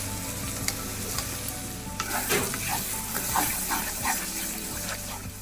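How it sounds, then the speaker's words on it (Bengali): Capsicum fries in a pan with spice paste, sizzling steadily while a spatula stirs and scrapes in irregular bursts close up. "ক্যাপসিকামটা একটু ভেজে নিয়ে এবার আমি যে মশলাটা করেছি সেই মশলাটা এর মধ্যে দিয়ে দিচ্ছি"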